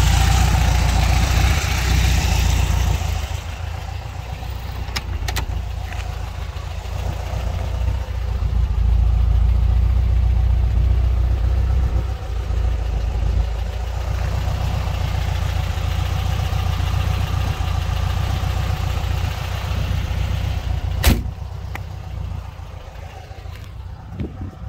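Engine of a 1967 VW Beetle, tuned up with new cap, distributor, carburetor and an aftermarket coil, idles steadily for the whole stretch with a low, even rumble heard close by and a couple of brief knocks.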